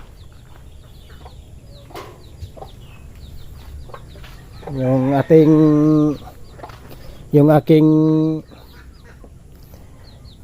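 Hen with six newly hatched chicks on a rainy, cold farm, two loud drawn-out clucking calls close by amid faint background chatter, with someone speaking briefly.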